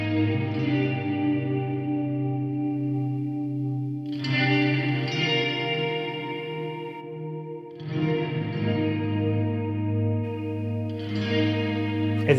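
The soloed side channel of a stereo music mix carries only far left and right content: layered, chorus-widened chords with a reverberant wash, changing every few seconds, moderately loud with no voices.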